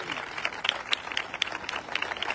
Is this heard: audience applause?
yes